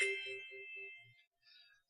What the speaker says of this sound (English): That's the garage door opening. Get alerted.